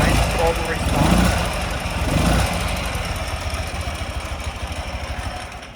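A 2004 Ural Tourist motorcycle engine idles with a steady, throbbing mid-pitched rumble and a slight pulsing rhythm, strong and close, with a voice talking over it near the start.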